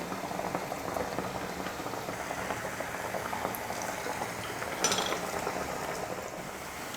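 Mango vada made with gram flour and rice flour deep-fries in oil with a dense, bubbling sizzle, steady and close, with a brief sharper burst partway through and no one speaking.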